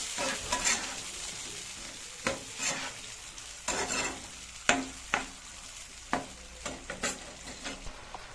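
Fried potatoes stir-fried with spice paste in a pan for a Bengali potato, aubergine and bori tangra fish dish: close, steady sizzling with repeated sharp scraping stirs at an irregular rhythm, with no talk.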